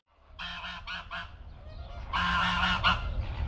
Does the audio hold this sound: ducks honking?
yes